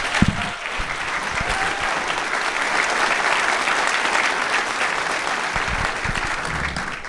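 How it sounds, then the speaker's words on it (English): Sustained audience applause at a film and TV industry town hall, dense and steady from start to finish with no voices rising above it. "let's give Rick Zbur a big hand and applause"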